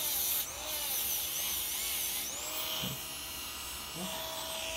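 High-pitched whine of a dental handpiece spinning a polishing brush against a CEREC or lab-made restoration, steady and fairly close, with pitch wavering as pressure changes.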